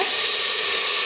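Tomatoes go into sizzling roasted spices in a pressure cooker while matar paneer pulao is being made. A loud, steady frying hiss fills the whole moment, with no talking.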